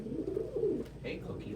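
Pigeons cooing indoors among pet birds: low, rolling coos in a short burst with a faint higher chirp, close and steady over room noise.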